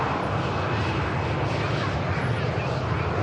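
A Ryanair jet airliner departing Manchester Airport gives a steady, broadband engine roar that holds even and loud throughout, with speech-like sound mixed in.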